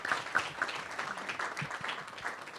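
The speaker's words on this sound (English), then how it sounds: "Could we give them all a warm round of applause really quick?" A conference audience claps for a panel, a soft, somewhat distant patter of applause that holds steady for a couple of seconds with no talk over it.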